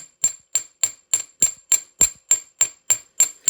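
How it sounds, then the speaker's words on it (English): Hammer taps on a copper wire bracelet held flat, a steady series of about twelve medium, evenly spaced metallic strikes with bright ringing tops, close and alone. "And we're going to do that same hammering motion."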